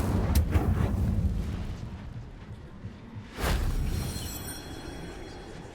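Incendio fire spell cast in Hogwarts Legacy: a loud, roaring burst with a whooshing rush at the start, then a second strong eruption of flame fading out.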